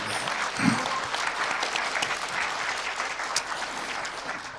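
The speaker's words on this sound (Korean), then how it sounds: "동의하시면 박수 한번 하십시오" An audience at a public hearing on open primaries claps together in a sustained, even burst of applause, thick and continuous from start to finish, with one brief low thump near the beginning.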